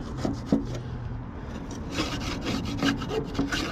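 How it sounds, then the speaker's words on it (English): Residue being scraped off the metal hood and plastic sides of a Cabking 8-inch cabbing saw during cleaning, a steady close rasping rub with a few sharper scratches. "So I just scrape it off."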